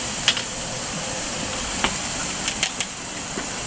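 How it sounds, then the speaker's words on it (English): Filet mignon sears on a grill with a steady, loud broadband sizzle and hiss, dotted with occasional small pops and crackles, heard close and without talk. "So we let it sear up on the one side."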